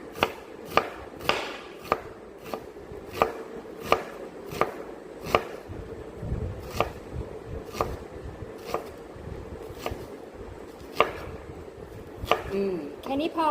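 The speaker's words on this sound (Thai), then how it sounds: "แล้วเราก็หั่น เต๋าชิ้นเล็กๆค่ะ" Knife dicing food into small cubes on a cutting board while preparing a simple mayonnaise salad dressing, a steady series of sharp chops at a regular rhythm, close and fairly quiet, with soft background noise between strokes.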